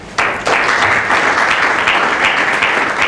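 Audience applause at a book signing, a dense steady clapping of many hands that starts abruptly and holds loud throughout.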